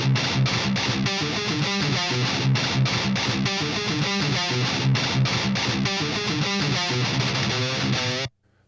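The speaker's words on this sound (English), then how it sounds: "We're using the pedal not as a distortion box, but as a powerful tone shaping boost" Electric guitar played through a clean boost pedal used for tone shaping, a rhythmic riff with a bright, slightly driven tone, continuous and loud, then cutting off abruptly at the end.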